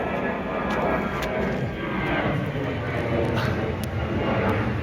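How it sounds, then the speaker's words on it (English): An airplane passes overhead above a garden allotment, a steady broad engine roar holding at an even, fairly loud level with no talking. "The old obligatory plane."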